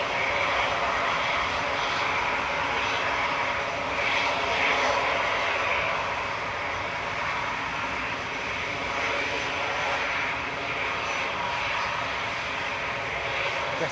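Airliner engines roar steadily at Manchester Airport as planes taxi, a loud continuous whine and rumble with no other sounds.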